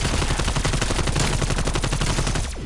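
Rapid automatic AK rifle fire in a shooter video game, a loud, steady stream of closely spaced shots for over two seconds before tailing off sharply, no voices.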